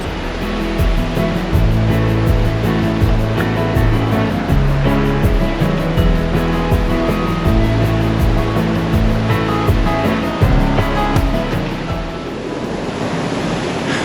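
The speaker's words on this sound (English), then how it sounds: "How cool is that water flowing under that little blanket of ice that's formed on top of it?" River water flows under a thin layer of ice on a frozen river, a loud, steady rushing wash that continues unbroken, then thins slightly near the end.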